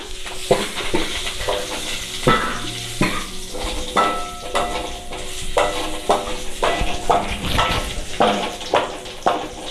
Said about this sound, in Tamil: ஒரு கொத்து கருவேப்பிலை போட்டு நல்லா கிண்டிக்கலாம்